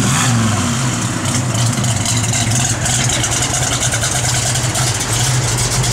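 A 1966 Chevrolet Chevelle SS with a lumpy aftermarket cam idles loudly and close, its steady rumbling exhaust filling the recording without a break.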